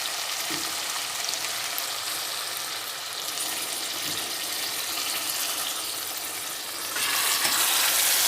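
Boneless chicken and kasoo kola frying in a pan after a splash of water is added, giving a loud, steady sizzle with bubbling that grows louder near the end, with no talking.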